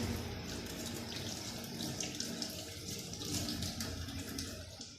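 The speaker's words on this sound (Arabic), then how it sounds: "نغسل ايدنا" A water tap runs steadily while hands are washed under it, a close, continuous hiss and splash at low level with no talk.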